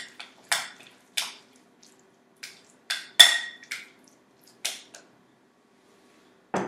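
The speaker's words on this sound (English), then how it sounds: "I'm just gonna mix it all together before we add the rest of the ingredients" Chopped ingredients are stirred together in a bowl, making a series of separate sharp clinks and wet scrapes spaced roughly half a second to a second apart, close by and otherwise quiet.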